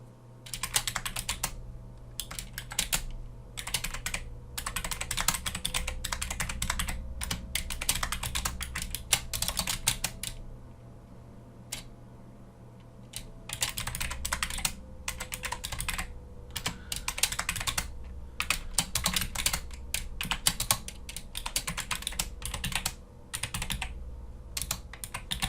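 Continuous close typing on a computer keyboard, rapid clattering keystrokes in bursts with short pauses, no voices.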